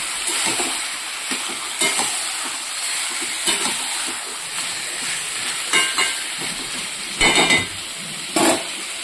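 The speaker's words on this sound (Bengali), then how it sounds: "এবার ভালো করে নাড়াচাড়া করে নেব" Spicy red chicken being stirred in a hot pan, a steady frying hiss broken by louder scraping bursts of the spoon, especially toward the end; no talking.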